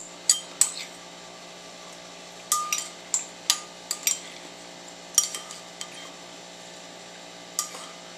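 Metal spoon scraping and tapping into frozen watermelon sherbet, a series of short sharp clinks and scrapes in irregular clusters, fairly close with quiet pauses between.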